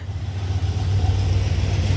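A Charger's engine, fitted with a new exhaust, rumbles up close as a steady, deep, throbbing drone that swells slightly, with no talking.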